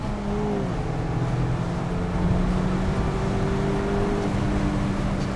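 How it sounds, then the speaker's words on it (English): The four-cylinder engine of a 2020 Mazda MX-5 Miata under way, a smooth, throaty hum heard from inside the car, with the pitch shifting through gear changes and a steady road rumble beneath it, and no talking. "This is a smooth and like kind of throaty sounding four cylinder."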